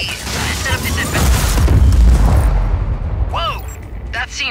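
Loud, booming explosions from the video game Just Cause 4 during a piñata-blasting training course, one big blast swelling and rumbling for a couple of seconds before fading, followed by brief whooshing effects.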